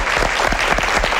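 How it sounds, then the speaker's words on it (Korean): Studio audience applause on a Korean television talk program: a brief burst of loud, close, dense clapping, steady throughout. "박수 한번 주십시오"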